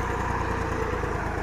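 A Same Greaves 353 35 HP tractor engine drones steadily under load while pulling a 3 mb plough, a close, even mid-pitched rumble with no pauses over a brief stretch.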